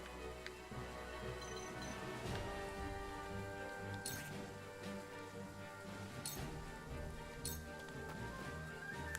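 Rain falling in the video game Triangle Strategy, a steady soft patter running throughout at low level, mixed with tonal game music and a few sharp bright hits.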